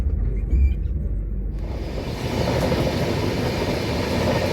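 A train pulls out of New Jalpaiguri (NJP) station, running late, its low rumble swelling as it gets moving and then holding as a steady, broad rolling noise from the carriage.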